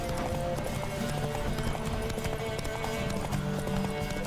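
Rhythmic horse hoofbeats clip-clop steadily in The Witcher 3 over a dense background of game music and ambience, with no talking.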